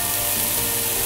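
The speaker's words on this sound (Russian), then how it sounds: "разрезаем его напополам и запекаем также на сковороде" Halved cherry tomatoes, cut side down, sizzling in a frying pan, a steady close crackling hiss that fills the whole short moment with no voices.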